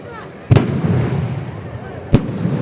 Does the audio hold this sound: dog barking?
no